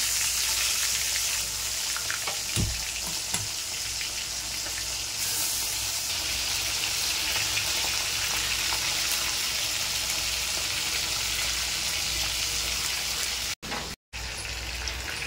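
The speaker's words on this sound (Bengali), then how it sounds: "এই যে এখন মাছগুলো কিন্তু সুন্দর করে ভেজে নিচ্ছি আমি, যেহেতু পমপ্লেট মাছটা না প্রচণ্ড নরম" Pomfret fish, rubbed with salt and turmeric, frying in a pan, giving a steady close sizzle throughout with a couple of soft knocks and a brief cut near the end.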